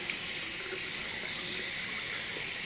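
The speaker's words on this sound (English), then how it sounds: "I take my brush and my bowl and I wet my brush" Tap water runs steadily into a sink as a synthetic shaving brush is wetted, a constant soft hissing stream at moderate distance, fairly quiet and without speech.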